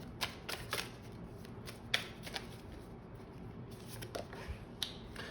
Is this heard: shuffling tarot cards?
yes